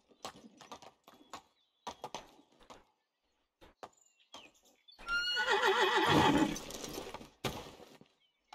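A horse in the medieval life-sim game Medieval Dynasty lets out a loud, wavering whinny in the middle of the clip, preceded by scattered hoof clops and light footsteps and followed by a few more thuds.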